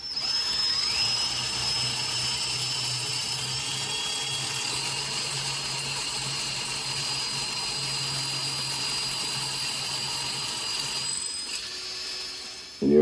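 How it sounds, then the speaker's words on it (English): A power drill bores a wider hole into a broken stone sculpture for a metal reinforcement pin, giving a steady, high whining motor tone with a grinding undertone that runs for about eleven seconds before stopping abruptly. "you make the next drilling to a thicker hole, so you'll have some playroom when you place it"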